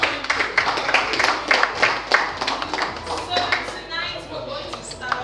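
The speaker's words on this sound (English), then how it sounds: "So give yourselves another round of applause." An audience at a spoken word open mic event in Lagos claps steadily, a dense, continuous round of applause that fills the space, with voices mixed in underneath.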